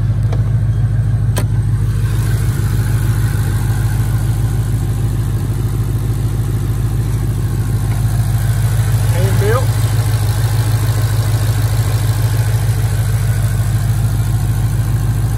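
A 2020 Shelby GT500 with a 5.2-liter engine idles in a steady, low, even drone, with a person talking nearby throughout.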